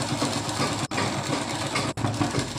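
A sewing machine stitches the folded hem of palazzo pants, a close, steady mechanical whirring broken by two brief pauses.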